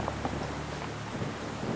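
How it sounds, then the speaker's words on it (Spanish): Rain falls steadily in a broad, even wash, with a low rumble underneath, close and fairly loud throughout the short stretch. "Y sigue lloviendo."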